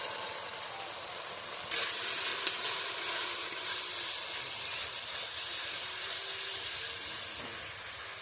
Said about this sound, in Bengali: ধনে পাউডার দিয়ে আবার একটু নাড়িয়ে চাড়িয়ে ভেজে নিচ্ছি মশলাটাকে।